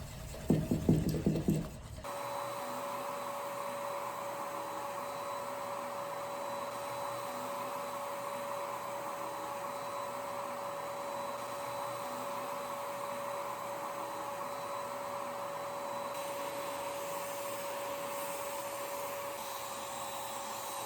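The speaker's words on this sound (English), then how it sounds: "and then I began spraying" A paint sprayer spraying a dresser: after a short rattling start, a continuous hissing mechanical whine runs steadily and unbroken, close by, with no talking.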